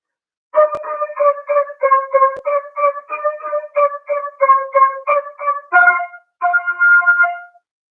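A flute plays a quick sequence of about sixteen short, evenly articulated notes, ending with two longer held notes, solo and close.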